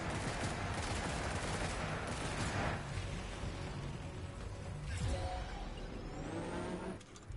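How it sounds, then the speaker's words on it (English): Enemy gunfire in Death Stranding 2 rattles in dense, fairly faint bursts against a steady rumble of game noise, with a few louder cracks toward the end and no talking. "they are shooting at it"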